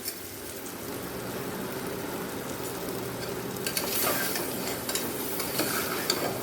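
Chopped chayote with curry leaves and salt sautés in a pan, a steady close sizzle with spatula stirring and scraping that grows busier toward the end.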